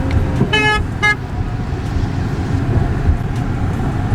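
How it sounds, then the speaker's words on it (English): Two short car horn blasts sound over steady street traffic, the first longer than the second, followed by continuous road noise and passing vehicles. "Why are they honking at you, bro?"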